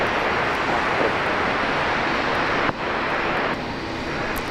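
Boeing 777-300ER jet engines at an airport, a loud continuous broadband roar heard from fairly close, steady throughout with a slight drop partway through.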